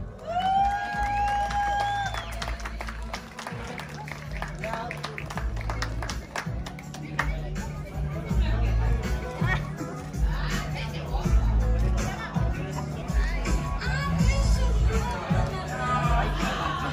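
A crowd at a quinceañera party claps and cheers, with whoops, chatter and a hubbub of voices mixed in, loud and continuous over background music, as a celebration carries on nearby.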